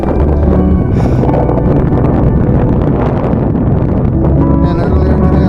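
Strong, steady wind on a mountain top along the Appalachian Trail buffets the microphone with a loud, constant roar and rustle, unbroken throughout and with no voices.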